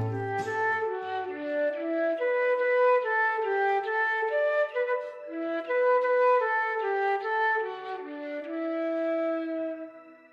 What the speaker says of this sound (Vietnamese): Đó là sáo.